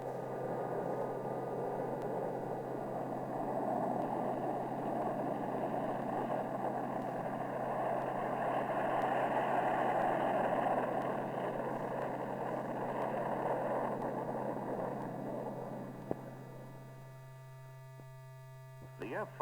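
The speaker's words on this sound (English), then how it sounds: "Taxi and turning on soft ground is accomplished with ease because the F-5A is equipped with nose wheel steering." A Northrop F-5A Tiger jet taxis and turns on soft ground using nose wheel steering. Its engine gives a steady, loud roar with a constant hum throughout, then eases off briefly near the end.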